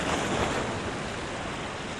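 Ocean surf pounds a broad beach on South Africa's west coast in late spring: loud, continuous wave wash and roar with wind noise and no voices.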